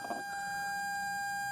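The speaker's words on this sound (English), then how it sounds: "I just want to see what the cold start is like on it." A 1982 Mercedes 300TD wagon engine cold-starts in a service bay, a brief initial burst settling at once into a steady, even idle with a constant whine, and no talk.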